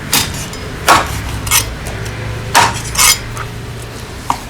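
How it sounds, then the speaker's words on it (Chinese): A knife cuts through a large fish head on a board, giving several loud, sharp chopping knocks at irregular intervals, close up with no talk. "把这个我们切掉"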